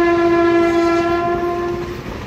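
A loud, sustained train horn blares steadily for about two seconds, close by, over a low rumble of rail traffic, then begins to fade.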